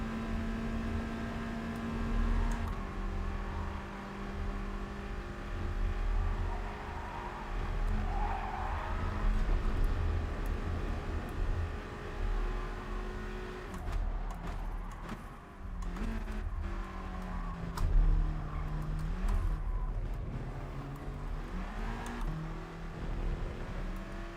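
A Volkswagen Scirocco's engine drones steadily while racing in GT Sport, with shifting pitch as it revs and gears change, plus faint tire squeal and other cars nearby, and no talk.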